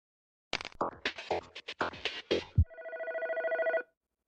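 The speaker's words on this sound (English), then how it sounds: "Phone call." Video game phone ringtone: a burst of short chirpy blips followed by a steady sustained electronic ring lasting about a second, clear and alone.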